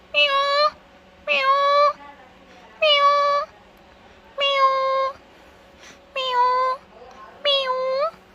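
A cat meows six times at an even pace, each cry clear and close, with quiet room sound between them.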